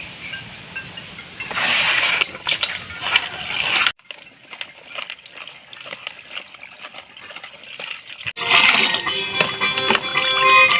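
Small freshwater fish from a wetland being washed by hand in water, with splashing, sloshing and trickling that swell loud at the start and end and settle into quieter dribbling in the middle.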